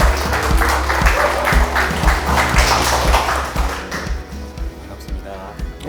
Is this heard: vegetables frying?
no